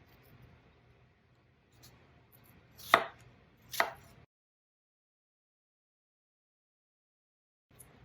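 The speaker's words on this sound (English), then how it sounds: "I'm going to go ahead, finish slicing up my apples." A knife slicing apples on a cutting board: two crisp knocks of the blade hitting the board close by, with faint scraping between them, then near silence.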